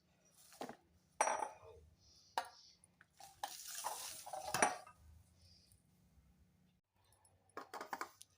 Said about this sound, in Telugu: ఇప్పుడు దీన్ని అయితే డిష్ అవుట్ చేసేసుకుందాం.